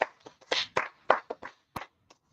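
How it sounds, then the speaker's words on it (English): A small congregation claps at a religious gathering, sparse uneven bursts of handclaps close by with brief gaps between them, fading to a few isolated claps at the end. "Let's clap it up for the Most High, our God."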